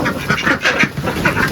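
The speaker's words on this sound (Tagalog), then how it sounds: "Anong tawag sa manok na to? Brahman." A Brahman chicken on a small animal farm calls out in a short run of loud, close, nasal squawks with brief gaps between them, with no talking.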